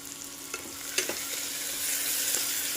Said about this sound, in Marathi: 1-2 मिनिट कांदा छान परतून घेऊया।